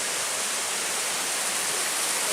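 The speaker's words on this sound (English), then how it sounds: "Take a look at this waterfall." A waterfall at a campsite on the Manistee River Trail rushes in a steady, dense wash of falling water, continuous and fairly close, with no voices.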